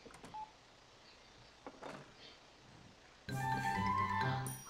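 A phone in The Sims video game, a few faint clicks and beeps followed by a louder electronic ringing melody that starts partway through and carries on to the end.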